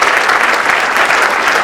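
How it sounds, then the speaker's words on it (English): A lecture audience applauds loudly and evenly, a dense, continuous wash of clapping with no voices standing out. "Clap it up one more time."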